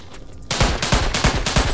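Rapid bursts of automatic gunfire from the mobile game Los Angeles Crimes Online, a loud rattling string of close shots starting abruptly and repeating in a steady rhythm.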